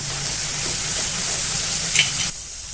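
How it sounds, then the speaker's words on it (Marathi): A ground onion-tomato masala with ginger-garlic paste roasts in a pan for chole, sizzling loudly and close with a brief stirring scrape before the sizzle drops. "त्यामध्ये एक चमचा आले लसूण पेस्ट घालून छान भाजून घेणार आहे"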